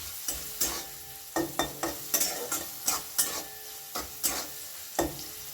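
Turmeric and sugar being stirred into a frying pan of poha base, a series of crisp, rhythmic spatula scrapes and clacks over a soft sizzle, close and clear with no talking.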